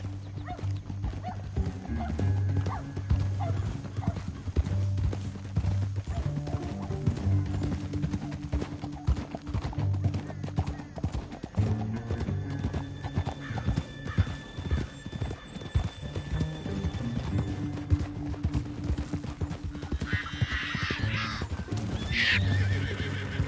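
Horses' hooves pound steadily at a gallop while neighs and whinnies rise over the rumble, loud and close, with a brief sharper cry near the end.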